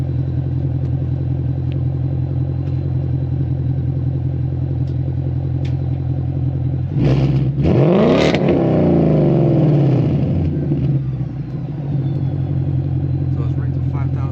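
A 2023 Mustang GT V8 with a Magnaflow Neo exhaust in quiet mode idles with a steady low rumble, then revs hard once with a loud rising roar and settles back to idle.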